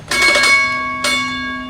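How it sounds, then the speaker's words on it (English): A loud, clear ship's engine order telegraph bell rings twice in a steam engine room, each strike leaving a steady metallic ringing tone that sustains and slowly fades. "He hears the bell."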